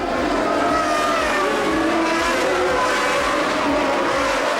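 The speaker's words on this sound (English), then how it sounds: "And this time it's a superb start from Alain Prost, and he's into the lead." Formula 1 cars roar away at the start of the 1981 French Grand Prix, a loud, dense blend of screaming engines with rising whining tones and a continuous rough roar throughout.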